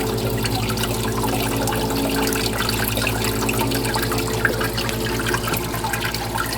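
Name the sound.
water flowing to turn a water wheel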